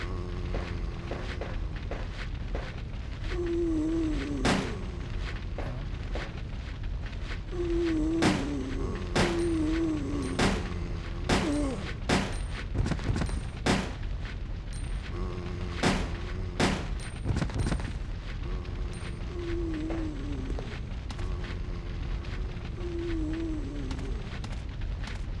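Dual pistols firing akimbo in Resident Evil Code Veronica on the Dreamcast, a long stretch of sharp repeated shots in quick irregular bursts over a constant rumbling backdrop, with occasional groaning sounds in between.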